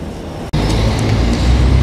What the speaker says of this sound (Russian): А вон, наверное, и мой автобус едет,